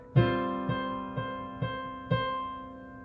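Five sustained piano chords from a piece, played with both hands, struck one at a time at an even, slow pace and left to ring and decay, clear and close with no speech.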